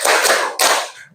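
Hands clap twice, loud and close, about half a second apart, in a classroom clapping game, with no talk.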